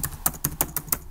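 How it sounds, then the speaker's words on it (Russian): Keys clatter on a computer keyboard in a Photoshop editing session, six crisp, evenly spaced clicks about a fifth of a second apart, close and clear with no voices. "И клацаю на Enter."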